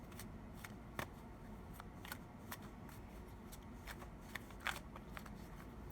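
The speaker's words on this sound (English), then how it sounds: "I'll pull a few more cards and then" Tarot cards are shuffled by hand close up, a quiet run of soft papery riffles and sharp flicks and snaps at irregular intervals over a faint background hiss.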